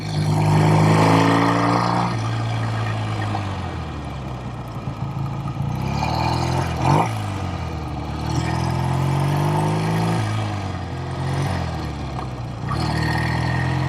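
A vintage 1969 BSA Thunderbolt 650 motorcycle engine drones steadily while riding, its pitch shifting up and down with throttle changes and gear shifts, close and continuous with wind.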